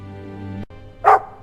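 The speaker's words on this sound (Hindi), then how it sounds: "और ये डॉगी वापस क्यों आया?" A dog barks once, loud and close, over a low steady hum, following a brief dip in the background.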